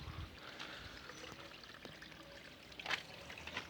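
Water from a natural spring in Ceará pours and trickles steadily in a quiet, continuous babble with a few brief splashes, with no voices.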